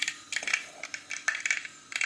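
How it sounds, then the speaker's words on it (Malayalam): Mustard seeds and fenugreek crackling in hot coconut oil, a quick run of sharp, close pops and ticks coming in uneven clusters. "ഉലുവായും കടുകൊക്കെ വേണ്ടി പൊട്ടുന്ന സൗണ്ട് കേൾക്കുന്നുണ്ടേ."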